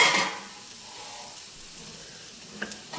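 Vegetables for veg egg burji sizzle softly in a pan, with a brief louder burst at the start and faint clinks near the end.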